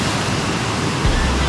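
Warm spring-fed waterfall at a resort pool, pouring as a steady, loud broadband roar close by, with a brief low splash or thump partway through and no talking.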